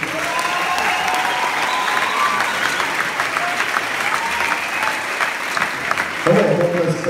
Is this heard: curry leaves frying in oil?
no